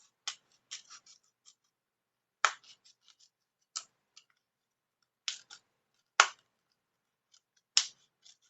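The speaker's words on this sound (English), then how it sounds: "So I'm just going to cut this cup down a bit." Scissors cut down a plastic cup filled with resin, giving sharp, close snips at irregular intervals with brief quiet gaps and small crackles between cuts.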